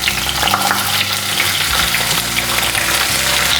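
Slit ivy gourd frying in hot oil with asafoetida, urad dal and curry leaves, a loud continuous sizzle with scraping stirs, no voices.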